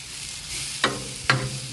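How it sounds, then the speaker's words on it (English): Peaches sizzling in melting butter on a hot Blackstone flat-top griddle, a steady close crackle broken by two sharp scraping clicks of a utensil stirring them. "we're going to add a little bit of butter to our peaches to kind of help get those going here"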